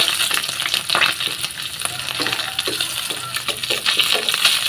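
Goby fish (biya) frying in hot cooking oil, a steady bright sizzle and crackle with occasional clinks of a utensil against the pan.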